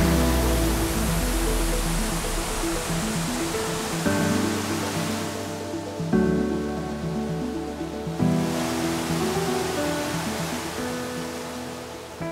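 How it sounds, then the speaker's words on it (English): A waterfall in Iceland roars as a dense, steady rush of falling water, loud and close, with a low hum and some tonal wind buffeting layered over it throughout, and no voices. "We've just arrived at this waterfall"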